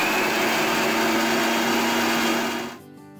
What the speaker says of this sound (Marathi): ह्या आता आपल्या मिक्सरला लावून घ्यायचं आहे असा.